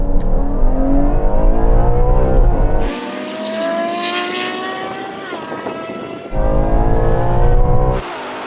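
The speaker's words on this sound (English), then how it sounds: "we're going to have a rolling race from 30 miles an hour to the half mile" Several Ferraris, including a Purosangue, 812, SF90 and 296 GTB, accelerate hard in a rolling drag race from 30 mph in second gear with manual shifts, giving loud, rising engine roar that drops away as one car falls behind, then surges again.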